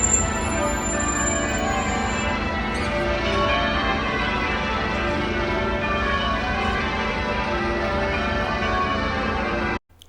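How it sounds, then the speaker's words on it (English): Church bells peal at Westminster Abbey in London during an event, a dense, continuous wash of overlapping rings that stays loud and steady throughout, then cuts off abruptly at the end. "So listen to the bells."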